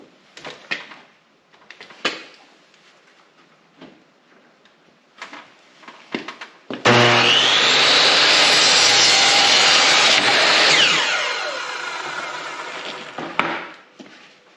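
An old Ryobi power saw cuts through wood for a decline squat platform build, a loud sustained whine starting midway and running about four seconds before tapering off, preceded by scattered knocks and handling noises in a workshop.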